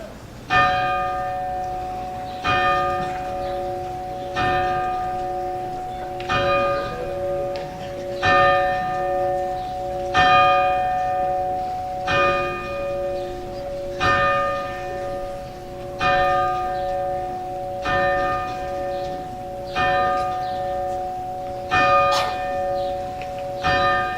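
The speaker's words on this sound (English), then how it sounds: "we will ring the historic tower bell, honoring the class of 2018" Slow, steady strikes of a historic school tower bell at a graduation ceremony, about a dozen resonant peals each ringing out and fading before the next one sounds.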